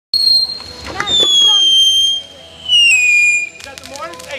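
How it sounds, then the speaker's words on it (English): Firework mortars are set off outdoors in New York, with long descending whistles sliding down over sharp crackling bursts, loud and close, while people talk nearby. "Is that the mortars? Hey guys, you gotta start lighting mortars now."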